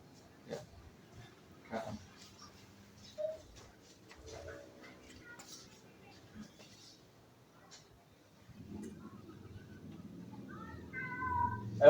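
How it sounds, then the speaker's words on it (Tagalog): A house cat gives several short, scattered meows in a quiet room, fairly faint and spaced apart, with brief human voices and small household noises between them. "Ito yung pinakamakulit kong pusa."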